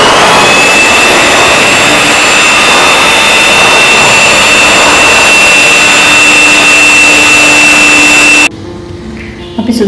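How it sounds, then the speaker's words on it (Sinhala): An electric mixer whirs loudly and steadily while beating sugar into a chocolate mousse mixture, close and constant with a high whine, then cuts off abruptly near the end. "මේ සීනි වල අවසාන ටික එකත් එකතු කරලා දැන් ටිකටම අපි මේක බීට් කරගෙන යනවා"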